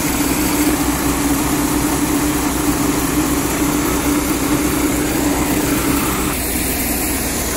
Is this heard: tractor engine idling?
yes